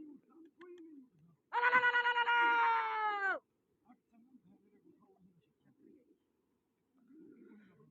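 A pigeon at a sangat pigeon-flying contest gives one loud, drawn-out cooing call lasting about two seconds. Low, faint voices murmur before and after it.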